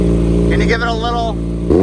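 Kawasaki Ninja motorcycle engine idling loudly up close, rising into a brief rev in the middle and settling back, with a voice speaking over part of it.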